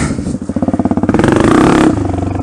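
A 2020 Honda CRF250F dirt bike, a woods-riding trail machine, revs hard up close, its engine pulsing in rapid firing beats before climbing to a sustained high-pitched roar and dropping back to a choppy idle.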